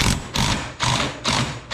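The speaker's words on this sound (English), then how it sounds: "I'm gonna go ahead and tighten this down." A hand ratchet tightens a nut on a rock slider bolt on a General XP 1000, with four loud, close bursts of rapid clicking in an even back-and-forth rhythm, each separated by a short pause.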